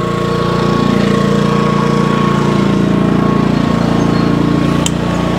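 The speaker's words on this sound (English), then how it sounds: "But this has been a good motor for us. The old 671." An old 671 diesel engine, 238 horsepower from the factory, runs a sawmill with a steady, loud, low pulsing drone that holds throughout, with no one speaking.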